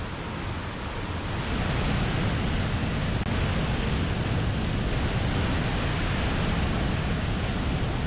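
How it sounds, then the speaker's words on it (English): Upper Yellowstone Falls in Yellowstone National Park, a steady roaring rush of falling water, broad and constant like surf, holding an even loudness throughout with no voices. "here's the first shot of the upper Yellowstone Falls"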